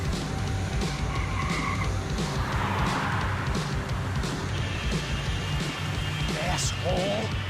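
Tires squeal and skid from a car in the video game Max Payne 3, layered under continuous engine noise, game action and a man's speech, with a sharp screech rising near the end.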